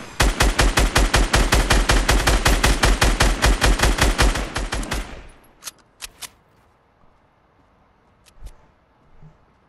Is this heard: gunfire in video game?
yes